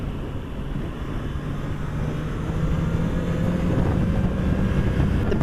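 A 2018 Honda CB650F motorcycle engine hums steadily while riding, a low droning tone rising slightly in pitch, heavily blended with strong wind rush over the microphone and no voices.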